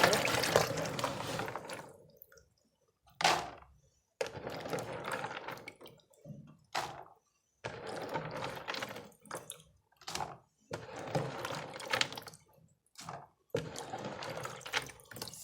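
Peanuts are washed by hand in a kitchen under running tap water, with splashing and rushing water broken into bursts by short pauses.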